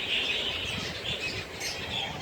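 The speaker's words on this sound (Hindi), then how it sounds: "ये मेरे लव बर्ड लगे हुए हैं" Caged lovebirds give a steady, busy chatter of high chirps and squawks, close by and continuous, with no talking over it.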